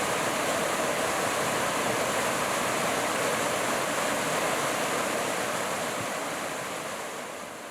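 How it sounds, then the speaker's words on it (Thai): Steady, full rush of a flowing forest stream, continuous and close, like a small cascade running without pause; no voices. Streamside campsite in Mae Takhrai National Park, Doi Saket, Chiang Mai. "ท่านจะได้นอนฟังเสียงน้ำไหลแบบได้สัมผัสกับธรรมชาติอย่างใกล้ชิดทั้งคืน"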